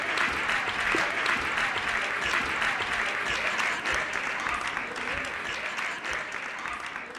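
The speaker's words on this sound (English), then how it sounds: "let's give a warm round of applause to Aaron Desiree." Sustained applause from a conference audience for an Ignite speaker, dense steady clapping that fades slightly toward the end.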